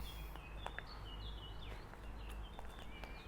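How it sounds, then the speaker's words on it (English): Several birds chirp and call in a town garden with open plots nearby, short bright notes scattered throughout over a steady low background rumble, fairly faint and somewhat distant. "Can you hear the birds?"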